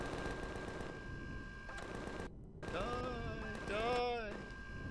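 Rapid automatic gunfire from Empyrion Galactic Survival rattles in a fast stream through most of the stretch, fairly quiet and mixed with tonal game sound effects, while a person talks over it.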